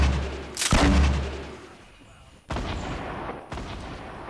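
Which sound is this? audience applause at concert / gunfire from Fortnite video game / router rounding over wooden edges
gunfire from Fortnite video game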